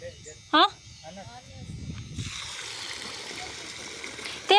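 A motor pump sends water rushing into a paddy field, a steady gush that starts partway through and keeps going, with people's voices calling out over it.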